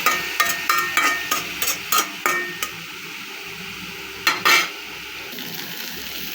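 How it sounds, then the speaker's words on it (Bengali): Onions frying in a pan for a kharkol leaf mash: a rapid run of sharp spatula knocks and scrapes against the pan over a soft sizzle, then quieter frying with two more clatters near the end. "পেঁয়াজটাও সাথে ভাজা ভাজা হোক।"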